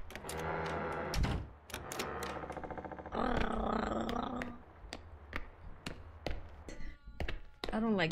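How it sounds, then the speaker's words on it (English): Chewbacca-like roaring creature in The Classrooms, growling and bellowing in long rough phrases mixed with clattering thuds and clicks, fairly close and loud against a quiet backdrop. "oh my god, it sounds like Chewbacca."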